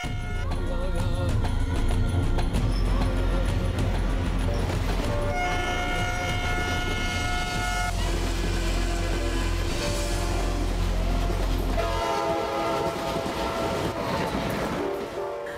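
A train rumbles loudly along the rails as it draws near, its horn sounding in long sustained blasts through the middle before the heavy rolling noise carries on alone.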